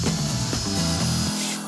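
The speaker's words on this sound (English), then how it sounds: "we need to drill a hole off center, so like right about here" A power drill bores a hole in a home lighting craft project, its loud whining motor shifting pitch as it works before winding down near the end.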